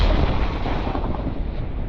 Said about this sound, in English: That is good thunder.